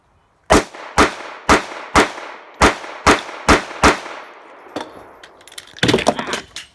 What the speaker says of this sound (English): this time I'm gonna try to do a little bit more rapid fire from the low ready up